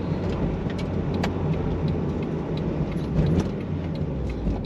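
Steady engine and road noise from a Mazda Miata fitted with a G Racing short throw shifter during a heel-toe downshift, with a continuous low drone, faint mechanical clicks and no talking.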